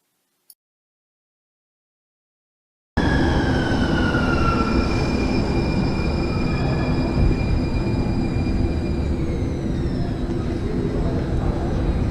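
An SFMTA Central Subway T train roars in a station after a brief silence, a loud, steady rumble with high wheel squeals gliding down in pitch over it, close and sustained throughout.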